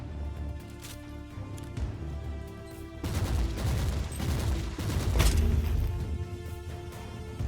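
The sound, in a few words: gunfire from shooting enemies in Warhammer 40,000: Inquisitor – Martyr video game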